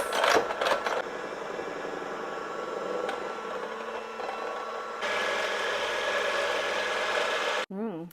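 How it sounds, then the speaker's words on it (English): A KitchenAid hand mixer whips creamy chocolate frosting in a steady, moderate motor whir that steps up in intensity partway through and then cuts off abruptly. A brief voice-like sound follows. "Now I'm going to use my KitchenAid hand mixer to whip this all up into delicious,"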